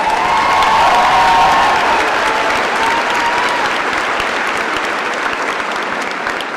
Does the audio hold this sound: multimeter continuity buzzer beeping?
no